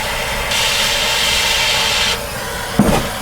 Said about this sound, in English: we're back to the torch again. You're going to heat that metal up until it's red hot.